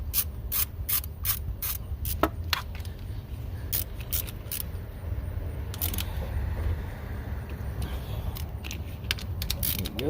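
A ratchet driving bolts back into the timing belt cover of a 1991 Acura Legend coupe, rapid clicking bursts repeating over a low rumbling background.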